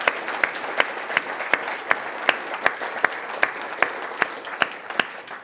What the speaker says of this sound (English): if you could all join with me again in a round of applause for the amazing contributions we've had